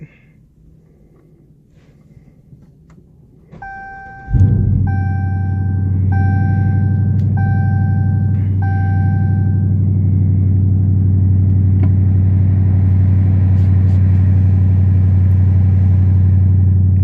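A Dodge Charger R/T with a 5.7 Hemi V8 and a K&N Blackhawk cold air intake cranks with a high whine, then fires at about four seconds into a loud, steady rumbling idle that holds to the end.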